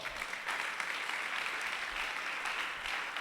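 A church congregation at a French-language Sunday school service claps steadily, a dense, sustained round of applause with no voices, filling the room from start to finish.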